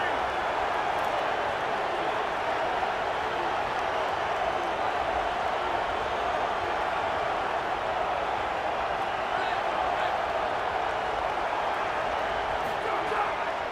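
Packed stadium crowd roaring on third down during a Texas State versus Arizona college football game, a loud, dense, unbroken wall of cheering and noise sustained throughout with no letup.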